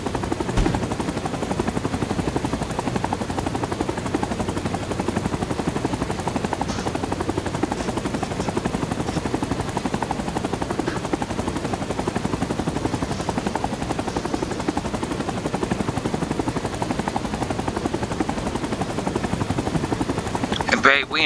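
A helicopter in the Vietnam War shooter Rising Storm 2: Vietnam churns steadily and loudly throughout, its rotor noise continuous with faint battle sounds in the mix.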